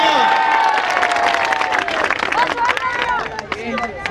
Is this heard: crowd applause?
yes